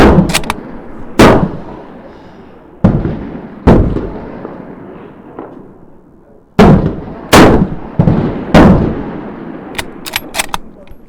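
Bolt-action rifle shots fired at 300 meters at an outdoor range in Thun ring out as loud, sharp cracks with rolling echoes, about ten reports spaced irregularly, some in quick pairs.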